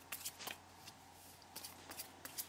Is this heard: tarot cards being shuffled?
yes